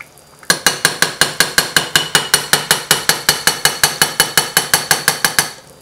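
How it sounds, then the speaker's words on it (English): Spoon stirring Bolognese meat sauce in a pot, a fast even series of about two dozen loud, close knocks against the metal, with no talking. "Now I stir a little bit like this."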